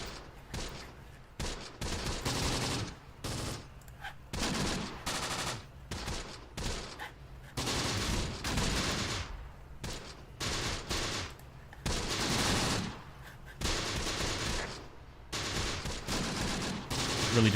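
Dense battlefield gunfire from the World War II video game Close Combat, with overlapping machine gun bursts, rifle shots and mortar rounds in continuous rolling volleys at mid distance, sustained throughout with little pause.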